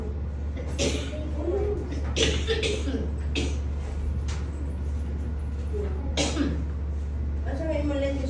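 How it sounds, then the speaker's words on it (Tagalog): Someone with a cough treated for rib misalignment and back dislocation coughs and clears their throat several times in short, close bursts, mixed with talk. "inuubo ako, hindi naalis"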